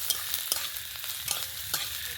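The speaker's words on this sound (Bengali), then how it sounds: "এইভাবে পেঁয়াজ কুচিটা তেলের মধ্যে দিয়ে নেব। হালকা একটু নেড়ে চেড়ে নেব।" Chopped onions frying in oil while being stirred, a steady close sizzle with repeated soft scraping strokes of a spatula at an even rhythm; no talk.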